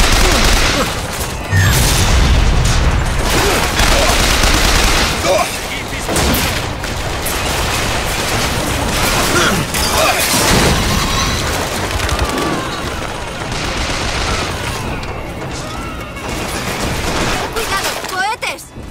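Turret and weapon fire rage in BioShock Infinite combat: dense, continuous bursts of gunfire and booms fill the scene almost without pause, with shouted voices mixed into the chaos.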